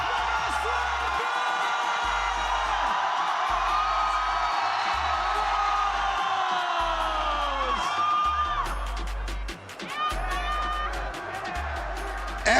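An esports arena crowd at a VALORANT Masters Santiago playoff match cheers and whoops continuously, a loud sustained roar with rhythmic thumping underneath and swelling shouts toward the end.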